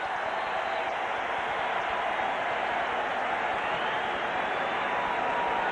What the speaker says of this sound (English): the crowd gets revved up for the first pitch